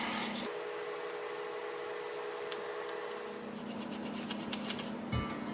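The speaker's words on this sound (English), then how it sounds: "So now we're gonna hit these parts with a wire brush for a little bit" A wire brush scrubs engine parts from an EGR delete job on a Datsun 280ZX, giving a steady, close rasping scour that runs continuously, with a low hum beneath and a brief knock near the end.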